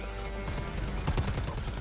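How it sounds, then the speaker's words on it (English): A shotgun firing in Predator Hunting Grounds, a quick cluster of sharp blasts close together mid-clip over a constant low game rumble. "I have no idea how strong the shotgun is."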